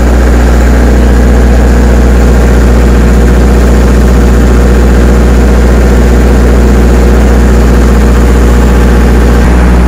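A large welding machine's engine runs steadily at idle, a loud, constant low droning hum with no breaks and no talking.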